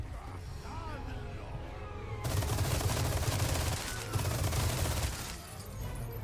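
Sustained gunfire in the Resident Evil 4 remake played on the hardest difficulty, a dense burst of shots from about two seconds in, loud and continuous over a steady game background, tapering near the end.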